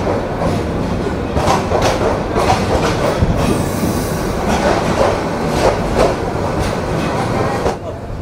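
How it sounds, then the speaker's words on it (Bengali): A train pulls out of Dhaka Airport railway station, its wheels clattering in a loud, steady rhythm of clicks and rumbles close by. "আমরা ঢাকা বিমানবন্দর রেলওয়ে স্টেশনে আমাদের নির্ধারিত যাত্রা বিরতি শেষ করে এখন ডিপারচার নিচ্ছি বিমানবন্দর রেলওয়ে স্টেশন থেকে"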